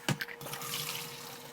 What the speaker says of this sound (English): is just drain the water off